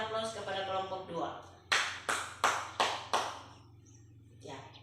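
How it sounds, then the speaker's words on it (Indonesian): Short applause in a grade 7 classroom for a discussion group, four or five sharp, distinct claps in an even rhythm following a teacher's voice, then quiet. "Mari kita berikan aplaus kepada kelompok 2."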